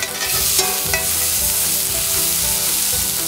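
Torn foraged mushrooms sautéing in truffle oil in a pan, a loud bright continuous sizzle with quick stirring scrapes near the start, close and unbroken.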